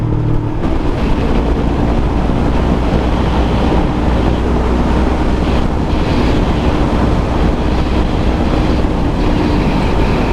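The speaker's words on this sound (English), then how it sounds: "it's got a little windy over here" Steady, loud wind rush buffeting the microphone while riding a Yamaha R3 motorcycle, a constant broadband roar that continues without pause for the whole stretch.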